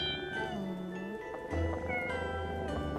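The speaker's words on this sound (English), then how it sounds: "You know, I'm not a very big fan of cats, but these cats are cute." Cats meow several times in the video game Pocket Mirror, with drawn-out, wavering calls over a soft game music background, close and clear.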